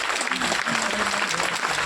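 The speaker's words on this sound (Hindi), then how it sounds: "हमारी आंखों की प्रोडक्ट के लिए एक बार जोरदार वाली ताली देनी चाहिए" Audience applause for an eye-care product at an Indian Ayurveda product presentation: a steady wash of clapping from a crowd, sustained and fairly loud, with faint talk mixed in.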